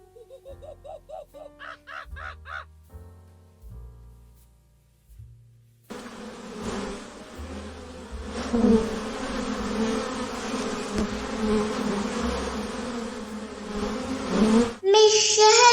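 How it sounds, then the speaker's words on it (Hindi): A honeybee buzzes in a sustained, fairly loud drone that starts suddenly and holds for several seconds, following a few plucked musical notes, with no talking. "मैं शहद की मक्खी हूँ।"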